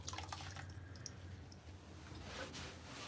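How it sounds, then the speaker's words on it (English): Tap water runs and drips steadily while rinsing paint stripper off van bodywork after scrubbing with Scotch-Brite, a soft, continuous wash with faint spattering throughout. "I'm rinsing it off with clear water or just normal regular tap water to neutralise the paint stripper and clean the bodywork"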